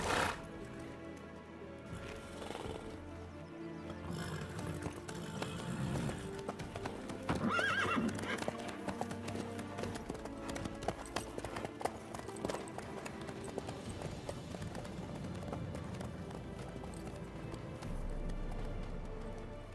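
A horse in The Witcher 3 clip-clops along at a steady gait, hooves close and clear, with whinnying and neighing breaking in among the hoofbeats.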